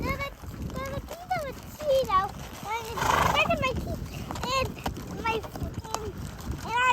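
A horse whinnies several times with rising and falling cries while hooves clip-clop steadily close by, with people talking over it outdoors.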